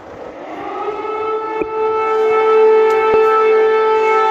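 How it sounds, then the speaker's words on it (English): Air raid siren wailing over Kyiv during a rocket alert, a loud sustained tone rising and holding steady across the whole stretch, with no voices. "An air raid siren over Kyiv."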